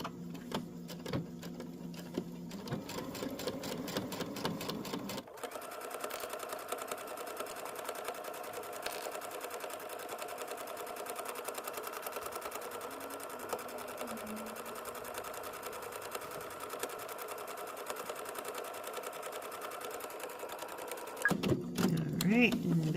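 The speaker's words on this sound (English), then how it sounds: "Now let's go ahead and sew up that pocket." Home sewing machine stitching a garment pocket with backstitching, steady rapid motor hum over long continuous runs, with brief pauses and someone talking before and after the stitching.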